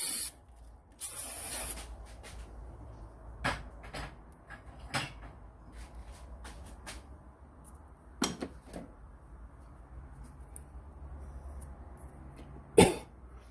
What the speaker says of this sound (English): I should do a bit of brake cleaner.